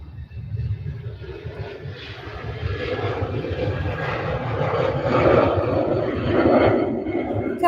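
An Egypt Air jet airliner taking off from Manchester Airport makes a low, rumbling engine roar that swells gradually and peaks toward the end, sounding moderately distant.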